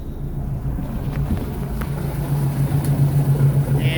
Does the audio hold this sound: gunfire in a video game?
no